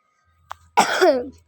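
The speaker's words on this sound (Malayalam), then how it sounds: "ഇടയ്ക്ക് ചുമയുണ്ട്, ക്ഷമിക്കുക" A single close, loud cough bursts out after a brief click, rough and throaty, then trails off into quiet.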